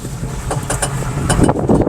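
A Tata Ace Pro mini truck driving and turning, giving a steady, fairly loud rumble of engine and road noise mixed with wind buffeting, with no voices.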